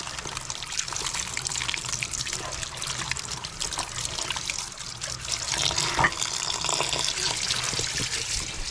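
Hands are washed under running water on a farm. A steady close trickle and splash continues throughout, with brief uneven splashes as the water hits the hands.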